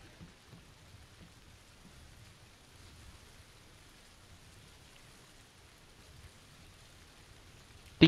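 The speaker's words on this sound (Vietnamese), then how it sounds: "Tiếng chân với tiếng mưa nó lẫn lộn nhau hết luôn à" Rain in the PUBG video game on a new map, a soft steady patter of raindrops with faint low rumbles, quiet throughout, ending in a brief sharp burst.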